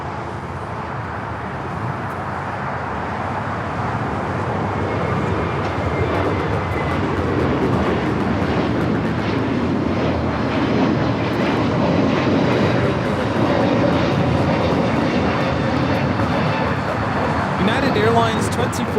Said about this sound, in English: United Airlines 2487 taking off to Chicago on the A321neo